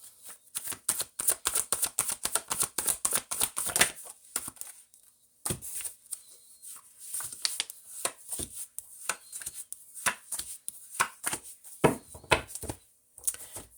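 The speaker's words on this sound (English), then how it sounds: "I mean, I'm shuffling, right?" Tarot cards shuffled by hand in a quiet room, a fast run of crisp riffling and slapping bursts, a short pause, then further uneven shuffles, close and fairly faint with no talking.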